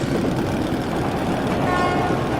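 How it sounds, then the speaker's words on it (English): A train approaches through the tunnels of the video game Metro Last Light Redux, making a dense, steady rumble with a faint horn-like tone rising near the end and no talk over it. "That's the train!"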